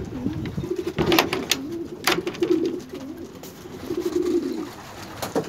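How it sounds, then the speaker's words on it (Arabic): Domestic pigeons coo steadily in a low, rolling murmur, several birds overlapping close by with no talk over them. "هانتوما الاخوان شتيهم الحميمات دابا راه كيشربوا تبارك الله"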